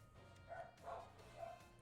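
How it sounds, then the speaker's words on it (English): Distant dogs bark three times in a spaced rhythm, quiet and muffled indoors beneath a low steady hum. "Excuse the dogs."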